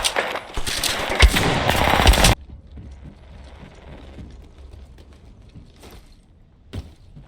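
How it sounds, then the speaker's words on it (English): Enemy gunfire in a shooter game played on an MSI Pulse GL66 laptop: a dense burst of rapid shots that stops abruptly, followed by quieter scattered game sounds and a couple of distant pops. "The enemies are shooting at me."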